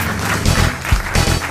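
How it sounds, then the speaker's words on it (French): Studio audience of a French radio comedy panel show applauding, loud bursts of clapping and cheering rising and falling over a short stretch, with no talk over it. "Et on applaudit la Jamais Contente."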